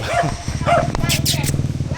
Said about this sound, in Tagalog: Ito yung mga aso.